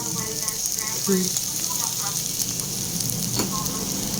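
Chili sizzles loudly as it is stirred into tokwa't pork sisig in a pan, a steady crackling fry with scraping knocks from the spoon, and voices murmur in the background.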